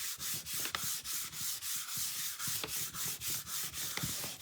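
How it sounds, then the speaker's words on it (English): Fingertips rub down a stencil on a wooden Christmas sign in quick, even strokes, a soft, close swishing that repeats about three times a second, with no speech. "So I'm just rubbing it all with my fingertips all down."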